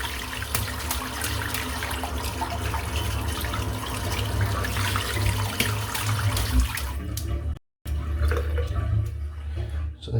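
Running tap water splashes steadily as soap is rinsed out of a dense-knotted shaving brush in a sink, a continuous close wash with a brief cutoff near the end.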